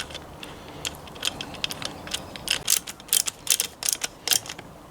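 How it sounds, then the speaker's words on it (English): Screws are started into a Poulan 42cc chainsaw during a rebuild, producing quick close ratcheting clicks in short irregular bursts over a quiet background, with no talking. "I'm just trying to get these screws started so I don't lose my gasket"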